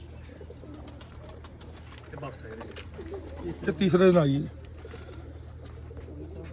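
A pet pigeon coos close by, with a throaty burst near the middle, over a steady low hum. Someone speaks quietly in Hindi in the background.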